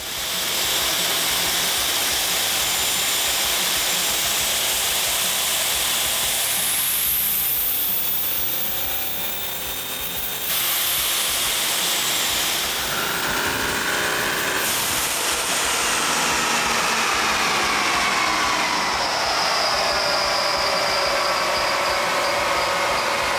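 A diesel truck with a big 106 mm turbo screaming on a chassis dyno with the filter off, a loud sustained roar with a rising whistling spool that sweeps upward, dips briefly, then climbs again.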